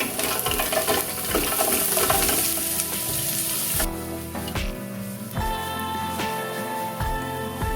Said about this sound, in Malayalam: അപ്പോഴേക്കും നമുക്ക് പൊടി പൊടിയായി അരിഞ്ഞു വെച്ച ഉള്ളി നമുക്കിടാം